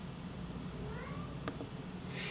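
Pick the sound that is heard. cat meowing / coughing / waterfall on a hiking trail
cat meowing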